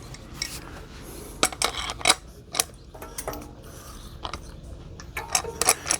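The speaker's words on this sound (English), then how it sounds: "See how the gear, as I turn the axle, that's staying, but when I go this direction, see how that's spinning freely now?" An e-bike geared hub motor's clutch gear spins freely on its axle, giving a close series of irregular metallic clicks and ratcheting taps with no talking.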